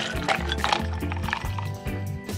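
Pink strawberry drink poured over ice into a cup, a steady liquid splash and trickle with light ice clinks running continuously, close and fairly loud, with no talking.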